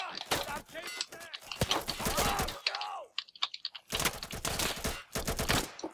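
Rapid gunfire from the video game Insurgency crackles in quick bursts between stretches of excited talk from players, the shots loud and close.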